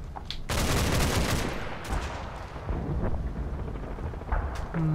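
Machine-gun return fire in Combat Mission: Battle for Normandy, a loud sustained burst of rapid shots followed by scattered further bursts and booms, with no talking.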